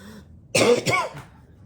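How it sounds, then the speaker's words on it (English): A single short cough from someone recovering from illness, close and sharp, with a brief throaty follow-up, surrounded by quiet. "Sorry, now I'm going to get a cough."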